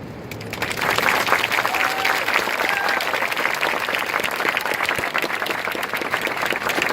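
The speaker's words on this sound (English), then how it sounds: "Would you like to give them another round of applause?" An outdoor crowd at a Toronto Pride flag raising applauds a men's chorus, clapping swelling in after a moment and holding dense and loud until an abrupt end, with no voices.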